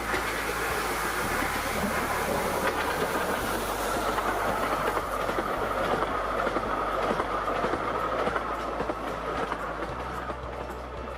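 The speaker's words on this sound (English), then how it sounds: "you can take a ride on the Bure Valley tourist train." Bure Valley tourist train running along its track, a steady rumbling roll with rhythmic clickety-clack and hiss, loud and continuous throughout, no talking.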